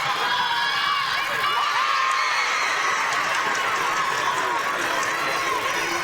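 Fans in the crowd at a girls' high school state championship basketball game cheer and shout together in a dense, steady roar with the bright ring of a large gym.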